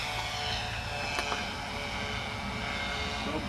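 A Guanli Catalina RC model seaplane in flight, giving a steady, high-pitched electric propeller whine that holds at a constant level throughout, with no talking.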